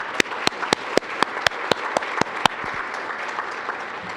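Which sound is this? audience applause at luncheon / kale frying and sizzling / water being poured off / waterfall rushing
audience applause at luncheon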